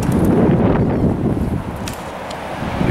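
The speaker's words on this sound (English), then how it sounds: "You see the wind blowing the jacket." Wind blowing outdoors, buffeting the microphone in loud rumbling gusts that ease slightly partway through and then swell again, with faint rustling on top.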